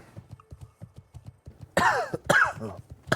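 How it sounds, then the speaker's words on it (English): Several sharp, throaty coughs from one person close to the microphone, coming in a quick cluster after a stretch of soft, rhythmic tapping in the background. "I got kind of a cough today."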